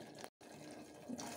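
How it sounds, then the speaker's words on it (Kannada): Water is poured from a glass into a pot of tomato sambar, a soft, close liquid splash broken by a brief gap, then a faint swell of trickling. "ನೀರು ಆ್ಯಡ್ ಮಾಡ್ತಾ ಇದ್ದೀನಿ."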